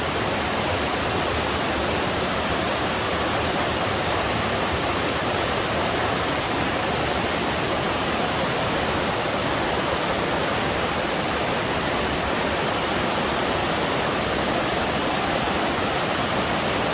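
An underground river flowing through a Tennessee cave gives a loud, continuous rushing hiss that holds steady without pause or speech.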